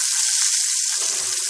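Onions, potatoes and peppers sautéing in a pan, producing a loud, dense, continuous sizzle close up with no voices.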